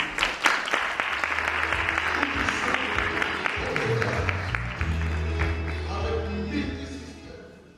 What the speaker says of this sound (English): can we just please give a round of applause for them, please?